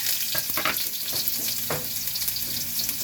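Ginger sizzling and frying in a pan at the start of a squash, string bean and coconut milk stew, a steady close hiss with occasional stirring scrapes throughout.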